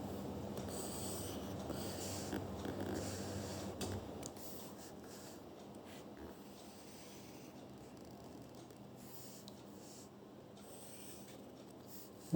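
A pen writes a table by hand on paper, a quiet, continuous scratching and rubbing that fades somewhat after the first few seconds, heard up close with no talking.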